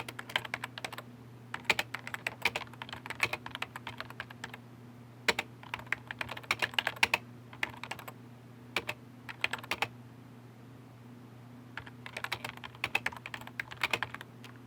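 Fingers type on a computer keyboard in bursts of quick clicks with short pauses between words, close and fairly quiet over a steady low hum.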